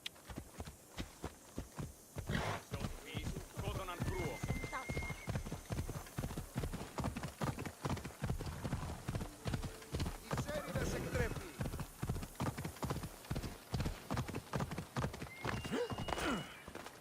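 A horse gallops in Assassin's Creed Odyssey, steady rhythmic hoofbeats pounding throughout, with whinnies and neighs now and then and people talking over the hooves.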